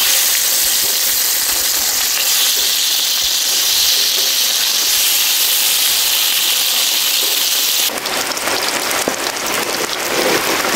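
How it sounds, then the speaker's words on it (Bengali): Loud, continuous hissing and crackling of katla fish frying in hot oil, close up, intensifying into a harsher sizzle near the end. "বাকি মাছগুলো ভেজে নেব।"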